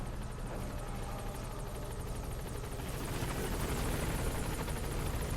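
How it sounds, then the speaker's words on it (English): Helicopter arriving during a Metal Gear Solid V mission, a continuous rotor chop and engine roar that grows slightly louder and nearer as it approaches, with no talking. "as I wait for the helicopter that takes too long to fucking come"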